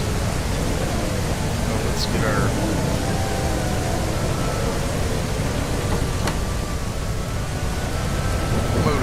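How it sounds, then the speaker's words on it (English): Steady stormy rain hisses throughout in the video game Teddy's Haven, a dense broadband wash with a few faint whistling tones on top, while someone talks briefly over it. "we got a stormy day today"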